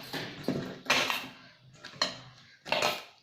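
Chopped vegetables being mixed with maida flour in a bowl for veg Manchurian, heard as four separate bursts of scraping and clinking utensil contact against the bowl, fairly close, with quiet gaps between them.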